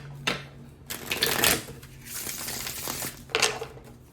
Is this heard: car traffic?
no